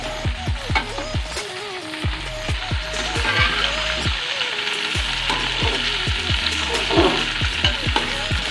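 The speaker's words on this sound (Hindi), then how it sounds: "इसमें हम अब भिंडी डालते हैं। अब इसको भूनेंगे ऑयल में" Okra (bhindi) fries in hot oil, a steady close sizzle under a run of quick, regular scraping and clicking strokes from a stirring utensil.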